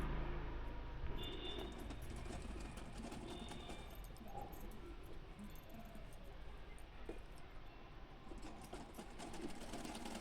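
A sewing machine running nonstop as it stitches a petticoat, its rapid mechanical whir steady at close range, with faint bird cooing in the background.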